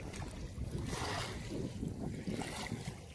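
Fast floodwater from the Mangla Dam rushes into Thanpal village, a loud, continuous roaring wash with churning turbulence and some wind buffeting on the microphone, with no speech.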